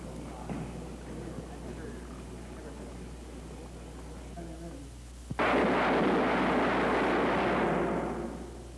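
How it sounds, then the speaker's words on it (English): An explosives shot is fired after a stretch of quiet background with murmured voices, bursting into a sudden loud blast and a sustained roar that fades near the end. "I just want to hear the sound of the shot."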